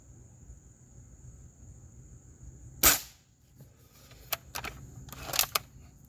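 Springfield Armory M1A .22-caliber spring piston air rifle fired in a backyard: one sharp crack early, then a few lighter snaps and clicks over a quiet background hum.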